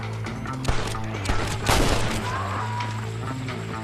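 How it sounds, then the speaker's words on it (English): A gunfight in Red Dead Redemption: a steady crackle of distant and mid-range gunshots with a few louder close cracks, set over a constant low background rumble. "Follow me, we'll shoot our way in there"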